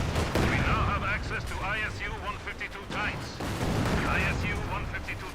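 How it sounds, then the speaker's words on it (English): A Maxim machine gun in the World War II strategy game Company of Heroes 2 fires in steady, rattling bursts amid booming battlefield explosions, with a commentator talking continuously over the din. "There's Russian firing away from the Maxim"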